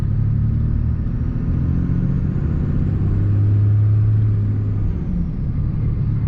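A Cummins diesel pickup truck with a six-speed manual, pulled in third gear, gives a steady, loud low rumble. It swells for a few seconds in the middle and then eases back, and no one speaks.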